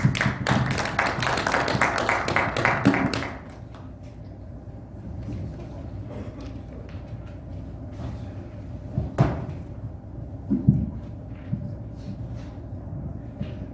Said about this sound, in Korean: 우리 큰 박수로 맞이할까요?